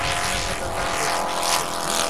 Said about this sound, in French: un moteur beaucoup plus puissant, qui tourne plus vite, qui a aussi un très beau bruit